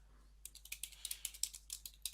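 Fingers type a short command on a computer keyboard, a quick even run of crisp close key clicks lasting under two seconds with no speech.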